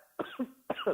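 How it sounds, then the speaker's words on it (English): Two short, rough coughs in quick succession, close to the microphone, with a brief pause between them. "sorry, came back with a cough."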